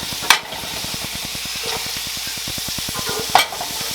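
Spinach and bacon sizzle loudly in a frying pan while a utensil stirs them, giving a steady close crackle with two sharp scrape or clank accents.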